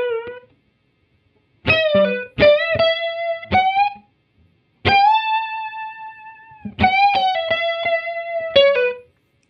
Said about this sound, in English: Add in chorus.